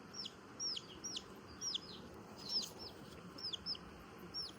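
Chickens and chicks at an outdoor fair in Pakistan give repeated short clucks and chirps over a constant crowd murmur. The calls come at an irregular pace and sound moderately near.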